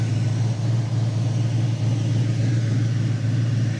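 A 1970 Ford Mustang Mach 1 idling close by, a loud, even, low rumble with a steady pulse and no revving.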